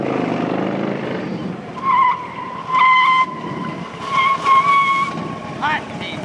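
A motorcycle skids at 30 mph on very hot pavement with only the rear brake applied, its tire letting out several sharp, tonal squeals in bursts; a voice is heard briefly at the start.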